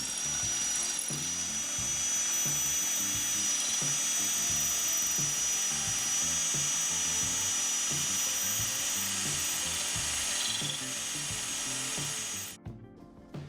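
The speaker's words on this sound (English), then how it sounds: "we're gonna drill a hole to install the bump stops" A power drill boring a hole to mount Jeep bump stops during a lift install, a steady high whining grind held for about twelve seconds before it abruptly cuts off.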